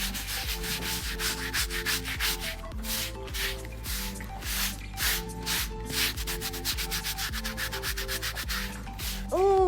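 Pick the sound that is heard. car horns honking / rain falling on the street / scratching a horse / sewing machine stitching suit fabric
scratching a horse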